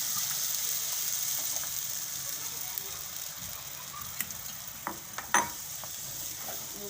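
Drumstick kadhi is poured into a pot with a soft liquid splash, followed by a few clinks and a scrape of a utensil over a faint background sizzle, nearby and fairly quiet, with no voices.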